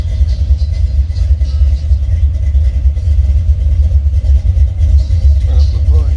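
A Buick 455 Stage-1 V8 in a Regal-T runs steadily with a deep, continuous low rumble that stays loud and even throughout, with no one speaking.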